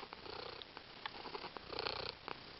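A domestic cat purrs softly and continuously at close range, a low steady rumble with small swells in intensity and no talking over it.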